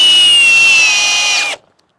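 A brushless Milwaukee or Ridgid impact driver drives a Torx screw with a loud, high whining whir that slowly drops in pitch for about a second and a half, then cuts off sharply into silence.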